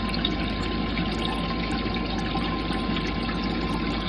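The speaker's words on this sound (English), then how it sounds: "And now I can hear some water." A Rule 3700 bilge pump pours water steadily and continuously with a low mechanical hum underneath, constant and even throughout, no voices.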